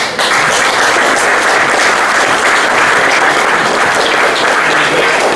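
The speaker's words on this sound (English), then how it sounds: "who I think really deserves a round of applause" Sustained audience applause at an exhibition launch, a dense, steady wash of many hands clapping close by and loud throughout, with no talk over it.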